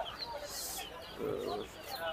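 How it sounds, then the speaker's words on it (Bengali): Roosters and hens at a busy poultry market cluck in short bursts close by, mixed with market chatter and voices in the background. "বিশাল বড় বড় সাইজের মোরগ"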